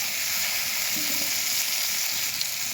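Cut eggplant hits a hot pan of oil with chopped onion, producing a steady, fairly loud hissing sizzle that holds evenly throughout, with no speech.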